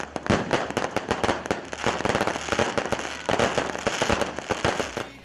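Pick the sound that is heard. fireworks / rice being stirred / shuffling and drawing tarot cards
fireworks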